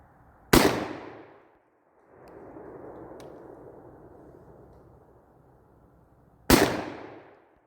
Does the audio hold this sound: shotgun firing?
yes